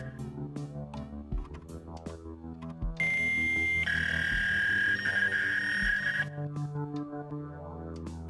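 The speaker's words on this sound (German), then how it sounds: "Ein Faxgerät. Toll!" Fax machine tones sound in the video game Please, Don't Touch Anything 3D: a shrill, steady electronic screech bursts in for about three seconds over soft background music.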